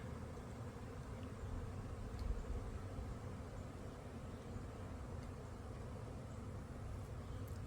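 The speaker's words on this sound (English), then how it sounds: "Gosh, that's a lot of bees." A swarm of bees buzzing outdoors as a faint, continuous drone that holds steady throughout, with no voices.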